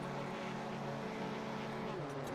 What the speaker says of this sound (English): Revs are rising.